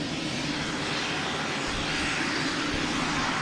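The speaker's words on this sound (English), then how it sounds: "we got a boutique air coming in here." A Boutique Air plane arriving at Boston Logan Airport, its engine a steady broadband roar that holds at fairly constant loudness throughout, with no voices.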